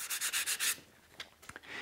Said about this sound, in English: I'll take my neck over to my oscillating spindle sander and sand off those tool marks